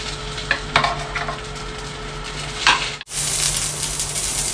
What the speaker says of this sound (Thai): แล้วก็ผัดนะคะ